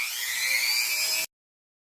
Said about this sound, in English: I'm going to sand those seams using a Dremel.